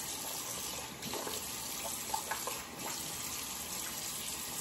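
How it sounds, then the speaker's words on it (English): Cold tap water runs in a steady, continuous splashing hiss into a sink while someone wets their face before a straight-razor shave, with no talking. "I am using cold water today."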